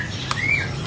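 A single songbird in a Vietnamese bird shop gives one short, fairly quiet chirp with a rising whistle, lasting under a second.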